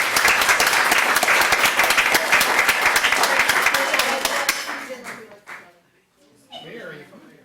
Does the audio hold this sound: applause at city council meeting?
yes